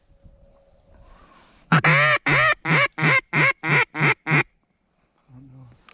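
Teal ducks on a hunting outing give a rapid series of about eight loud, harsh quacks close by, evenly spaced after a quiet lead-in, then a brief low call at the end.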